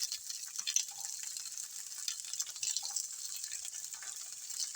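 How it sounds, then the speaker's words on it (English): Sliced hot dog strips fry in a pan the way bacon would, giving a steady, close crackling sizzle with scattered pops, heard alone throughout. "So I'm going to fry it up like you would bacon."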